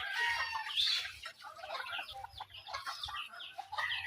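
A breeder rooster clucks in short repeated bursts at close range, fairly quiet, with faint low thumps beneath and no talking.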